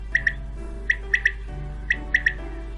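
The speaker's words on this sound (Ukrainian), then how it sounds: "Прилетіла перепілка" A quail calls in quick bright notes, grouped in twos and threes and repeated three times, sharp and clear over a low steady hum.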